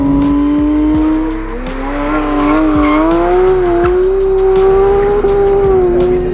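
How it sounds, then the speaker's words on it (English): A loud 2022 Porsche 911 GT3 engine drones steadily at high revs on a race track, pitch rising and dipping through gear changes, with brief tire squeals along the way. "Sound of this engine. You just kind of want to sit back and listen to it."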